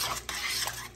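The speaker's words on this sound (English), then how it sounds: "Mix this." A spoon stirs slumgullion with tomato sauce in a pot, a short burst of wet scraping and clinking against the metal, close and moderately loud with a faint sizzle beneath.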